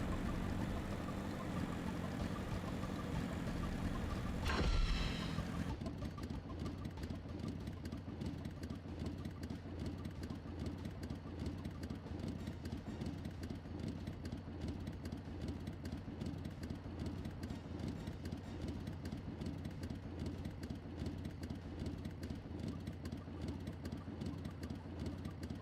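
A boat engine in a fishing video game runs steadily for the whole stretch, a constant low droning hum with a brief louder burst near the start, no talk.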